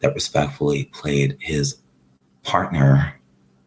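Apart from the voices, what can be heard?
None of the usual background noises is heard.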